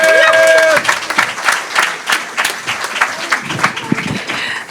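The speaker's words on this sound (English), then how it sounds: "So give her a round of applause and thank you." Audience applause for a singer at a music event, starting after a brief held tone and continuing as a moderately loud, uneven patter of clapping that slowly thins.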